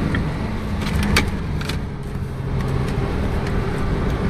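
A car driving on a road alongside racing horses, with a steady close engine and road rumble throughout and a few faint clicks and rattles, no talk.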